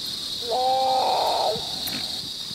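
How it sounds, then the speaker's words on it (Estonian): Great potoo giving its call, a loud, rough, drawn-out growling note of about one second with a harmonic tone, heard alone over a steady background hiss. "Järgmisena kuuleme suur tüükasorri kutsehüüdu."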